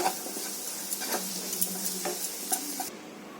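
A spoon scrapes and clinks as pepper prawn fry moves from a pan into a serving bowl, giving several distinct taps over a faint sizzle.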